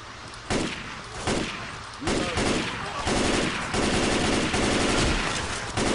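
Gunfire in Left 4 Dead 2, loud bursts of automatic weapon fire and sharp single shots that come in clusters at first, then a near-continuous rattle of rapid shooting.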